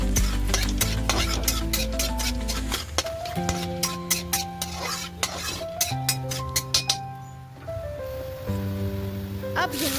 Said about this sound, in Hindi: यहाँ जीरा, कश्मीरी लाल मिर्च और तेज पत्ता पहले डाल के सॉटे कर लेते हैं 1 से 2 मिनट के लिए